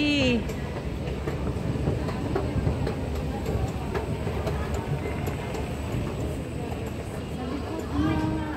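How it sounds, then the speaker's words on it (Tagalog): A Singapore MRT train rumbles past with a steady, broad roar and faint clatter, while people talk nearby over the noise outdoors near Marina Bay. "Ito po yung bagong MRT."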